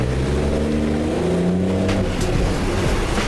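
Several race cars running close together side by side on a circuit during formation laps at a racing license day, engines droning loudly and steadily with overlapping tones that shift pitch as they pass.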